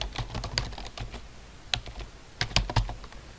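A computer keyboard clatters up close with quick, irregular keystrokes in short runs and brief pauses, with no talking.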